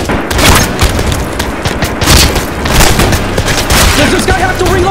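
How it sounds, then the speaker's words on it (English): Gunfire in the shooter game Escape From Tarkov, loud rapid volleys of shots and booming reports in repeated bursts, dense and close throughout, with voices faintly beneath. "Why am I getting shot at?"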